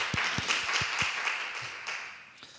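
Congregation applause during a Sunday church service, a few close, distinct hand claps over a softer wash of clapping that gradually fades toward the end.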